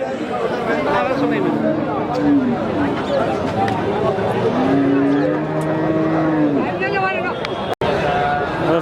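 Cattle at a Tamil Nadu village cow market in Karimangalam, Dharmapuri, give several long drawn-out moos over a dense, steady crowd murmur, with people talking throughout and one short break in the sound near the end.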